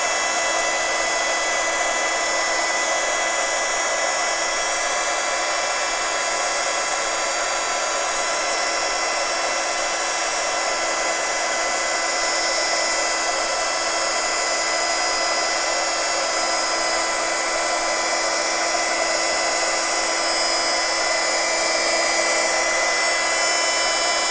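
A heat tool blows with a steady, even whir for heat embossing, running close and unbroken throughout with no talking.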